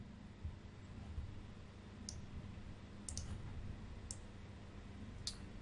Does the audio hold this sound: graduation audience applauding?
no